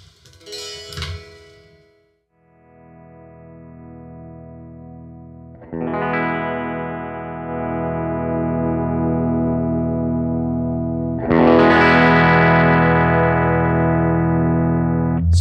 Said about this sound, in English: even without any gain, we have some distortion